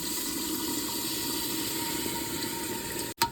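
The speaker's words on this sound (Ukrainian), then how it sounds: "Піджарюємо хвилини дві і заливаємо водичкою." Water poured into a pot of frying tomato paste on an Uzbek mastava stew, a steady rushing, sizzling wash that runs loud and unbroken, then cuts off abruptly at the end.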